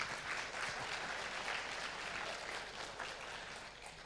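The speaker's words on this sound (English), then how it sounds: "a round of applause" An audience at a Romanian business services forum and awards evening applauds steadily, a dense wash of clapping held at an even level for several seconds before easing slightly near the end.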